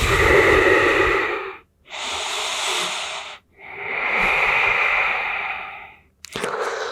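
Slow, deep breaths during a yoga stretch meant to open the shoulders and upper back, with three long airy exhales separated by brief pauses, close and fairly loud.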